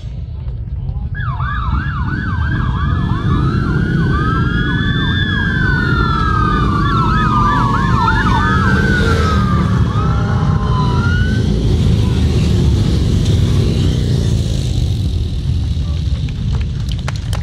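Loud police sirens wail and yelp in overlapping sweeps during an O.P.P. Golden Helmets police motorcycle parade at Blue Mountain, layered over a steady engine rumble throughout.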